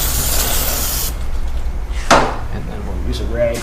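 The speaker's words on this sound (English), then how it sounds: "This is actually just a straight brake cleaner." Brake cleaner sprayed onto the rear wheel of a BMW S1000RR motorcycle in a workshop: a loud, close hiss lasting about a second, followed by a brief louder burst, with talk nearby.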